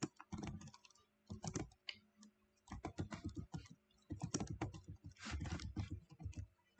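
Fingers tap out a short name on a computer keyboard in quick bursts of close, crisp clicks separated by brief pauses, with no talking.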